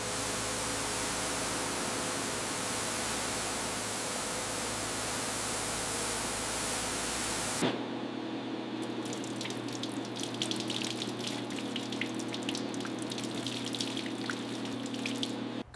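Solvent and water rinsing sludge and carbon buildup off parts from a 1941 Lincoln Continental: a steady hiss of spraying liquid that shifts abruptly partway through to a thinner splashing wash with scattered drips and clicks, no talking.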